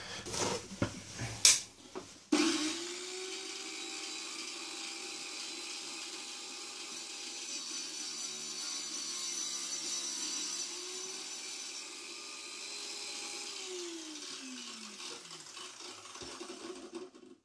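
A small wet saw grinds through tiny 1:10 scale bricks, a sustained high whine under a scraping cut that runs for many seconds after a few sharp knocks at the start, then winds down toward the end.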